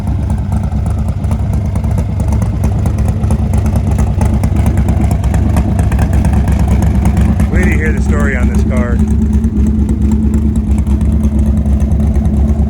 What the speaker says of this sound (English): And this car will idle like this, no problem.